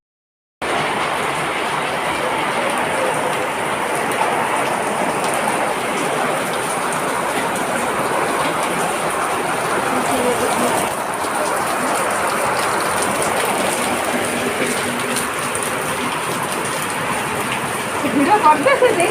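Heavy rain falls steadily and loudly in a dense, continuous hiss that lasts throughout, with a brief louder spatter near the end.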